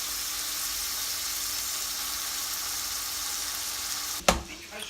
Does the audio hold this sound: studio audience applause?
no